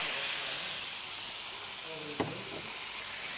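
Lamb shank searing in a hot pot on a stove gives a steady, fairly loud sizzling hiss throughout, with a brief sharp crackle partway through.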